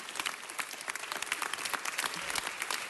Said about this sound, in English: I think that we should all give LaDoris McClaney a round of applause